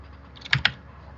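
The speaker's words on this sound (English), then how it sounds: "oh no, I'm typing down there." Two quick keystrokes on a computer keyboard, close and fairly crisp, over a faint low room hum during a Python coding livestream.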